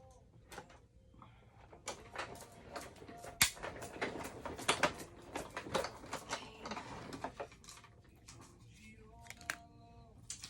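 A Stampin' Up cut and emboss machine runs card stock through its rollers, giving close, irregular clicking, rattling and crunching mechanical bursts over about ten seconds with no clear talk.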